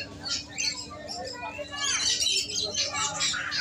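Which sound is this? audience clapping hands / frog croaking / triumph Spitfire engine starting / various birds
various birds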